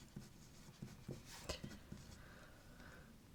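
A pen scratches across paper in a run of short, close strokes and taps, quiet with faint room noise and no talking.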